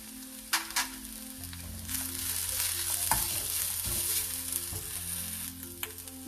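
Onions and ginger garlic paste fry in a pan for kushka biryani, a steady sizzle punctuated by several sharp scraping stirs of a spoon, close and loud with no talking.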